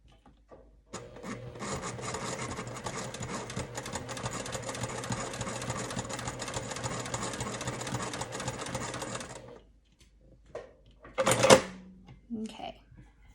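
A sewing machine at quilting stitch length runs steadily for about eight seconds while stitching a mini charm bag, a close, even mechanical whir that then stops, followed by a few faint handling knocks.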